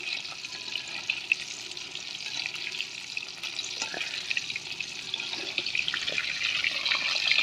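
Salmon deep-fries in oil until crispy, a steady, moderately loud bubbling sizzle that runs unbroken throughout with no voices.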